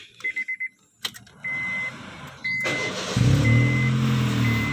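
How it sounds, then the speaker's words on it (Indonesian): A 2010 Honda Jazz RS engine cranks and catches after a few short warning chimes. The idle settles into a steady, close, loud hum with an intermittent alarm tone above it. "Oke, kita coba hidupkan lagi untuk mesin ya."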